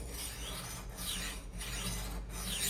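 A knife blade is drawn across a portable magnetic sharpener's grit stone in about three rasping strokes with brief pauses between them, close and fairly quiet.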